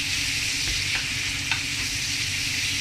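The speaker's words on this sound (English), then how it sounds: "we let it a little bit mixing together with the bacon and that gammon and the garlic" Sliced pork shoulder frying in a pan with bacon, gammon and garlic while being stirred, giving a steady close sizzle with a few soft scrapes of the utensil and no talking.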